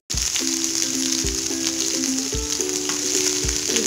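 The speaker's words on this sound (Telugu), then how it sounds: "కొద్దిగా ఫ్రై అయిన తర్వాత ఇందులో చిన్నగా తురిమిన అల్లం ముక్కలు, పచ్చిమిర్చి వేసి ఫ్రై చేసుకోవాలి" Grated ginger and green chillies frying in hot oil for a dahi vada tempering give a steady close sizzle, with a few clinks and scrapes of a stirring spoon and no voices.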